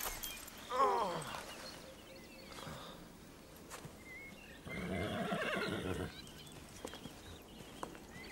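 A horse neighs clearly near the one-second mark, with a second, longer whinny-like burst around five to six seconds, set against quiet outdoor background and faint hoof clatter.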